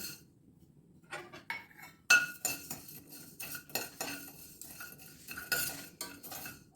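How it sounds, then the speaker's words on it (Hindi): Coriander seeds are dry-roasted in a pan and stirred with a metal spoon, producing irregular clinks, scrapes and rattles close by that come in quick bursts after a short quiet start. "अब मैं सेक लेती हूँ इसमें धनिया"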